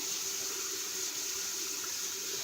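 Silverware washed under a running kitchen tap: a steady, close rush of flowing water with no talking.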